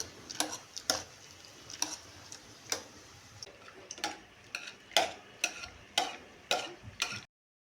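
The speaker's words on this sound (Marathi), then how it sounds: "भाज्या मऊ शिजल्या असतील तर पावभाजी मॅशरच्या मदतीने त्या छान मॅश करून घ्या." Soft cooked vegetables for pav bhaji being pressed with a pav bhaji masher, producing a steady series of close, crisp clacking taps roughly twice a second, with no talk.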